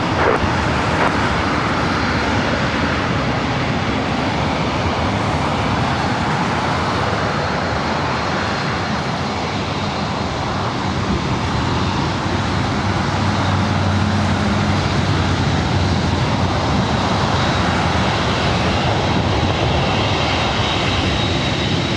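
A Lufthansa heavy airliner on its takeoff roll from runway 24 right at LAX: a loud, continuous broadband engine roar that holds steady and close for the whole stretch, with no talk.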